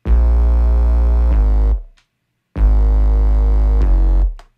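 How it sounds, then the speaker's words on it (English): A distorted synth top bass stacked on a deep, loud lower synth bass plays two heavy sustained notes separated by a brief silence, forming a thick layered electronic bass sound with no speech. "And then you combine it with the lower synth bass, and altogether it's a pretty big sound."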